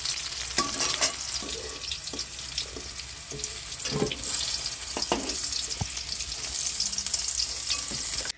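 Bitter gourd pieces sizzling in oil in a kadai, a close, continuous crackle broken by spatula stirs and sharp taps against the pan, with faint watery hiss underneath.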